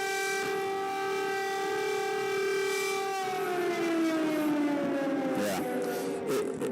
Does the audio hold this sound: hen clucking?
no